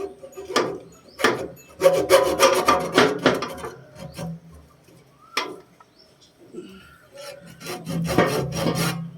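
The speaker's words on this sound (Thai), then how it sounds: "เอาเลื่อยตัดเลย" A saw rasps through an old, hardened line in uneven bursts of rough back-and-forth strokes, loud and close, with short pauses between bouts.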